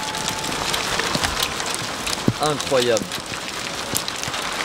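Heavy rain pours steadily across a broad, dense wash of noise on a stormy day, with a voice briefly exclaiming in French over the downpour.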